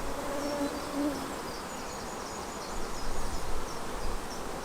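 Honeybees buzzing at an open hive while a frame is inspected during queen rearing by the Alley method, a steady faint hum spread across the whole moment with no talk over it.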